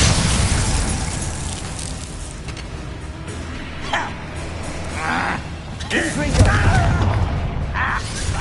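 A Bombarda blasting spell goes off in Hogwarts Legacy amid a dense, loud clash of booming bursts and mechanical clatter, with voices shouting and a dog-like bark mixed into the continuous din.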